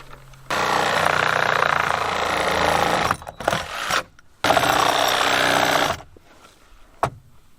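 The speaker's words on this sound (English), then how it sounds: "now I'm going to cut the legs off just flush straight under here as close as I can" A loud power tool cuts through rotted wooden post legs during a home renovation, running in two long sustained bursts with a short rough stuttering pause between, then stopping.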